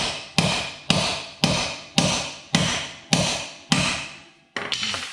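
A 19mm socket is hammered onto a part on a Jeep YJ, with seven sharp, evenly spaced hammer blows ringing close and loud, each decaying before the next, then a quicker cluster at the end.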